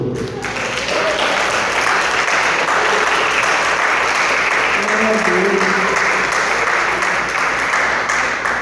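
A church congregation claps continuously and loudly, sustained applause filling the room while a voice speaks over it.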